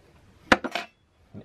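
Spicy nacho dip mixed in a bowl, a quick cluster of three clinking taps of a utensil against the bowl followed by a faint fourth knock, close and short.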